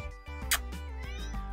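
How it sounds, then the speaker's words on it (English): A cat meows repeatedly indoors, several short drawn-out cries in an uneven rhythm, close and fairly clear over a low background hum. "my cat is here, so I guess ignore the meowing."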